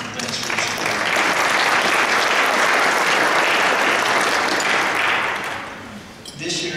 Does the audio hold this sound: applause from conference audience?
yes